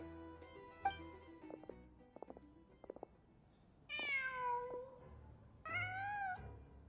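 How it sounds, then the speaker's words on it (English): A cat in the video game Genshin Impact meows twice, two drawn-out, rising cries standing clearly above quiet in-game ambience and a few soft clicks, with no talking. "Just a cat."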